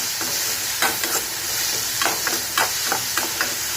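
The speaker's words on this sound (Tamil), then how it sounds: "போட்டு இப்போ நல்லா எல்லாத்தையும் வதக்கி விடலாம்." Onions and tomatoes with salt and turmeric sautéing in a frying pan, a steady close sizzle with repeated scraping strokes of a stirring spoon, no talk.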